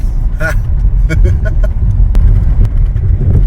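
Vehicle driving along a muddy gravel road in the mountains, a steady low rumble of engine and tyres filling the clip with a few brief higher rattles on top.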